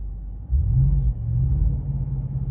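A car engine revving in stepped bursts under SRM adjustable launch control, a deep rumbling roar that holds steady at rising throttle, close and loud.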